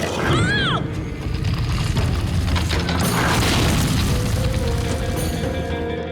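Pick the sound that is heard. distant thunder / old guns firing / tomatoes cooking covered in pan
old guns firing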